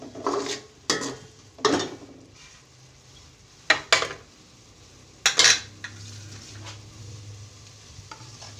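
Masala for matar pulao stirred in a pot, a series of loud metallic spoon scrapes and clanks against the pot over a low, continuous sizzle, spaced irregularly with quieter gaps between strokes.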